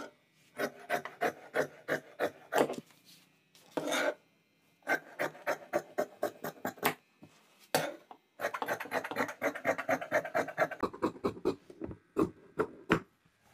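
Scissors cutting cloth for ladies' pants, in rapid rhythmic snips in bursts, close and clear with short pauses between runs; no talking.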